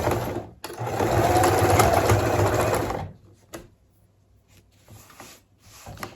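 Sewing machine stitching a line down a towel mop pad, a close steady whirring run of about three seconds, then stopping with a few short soft stitch bursts and handling noises afterward.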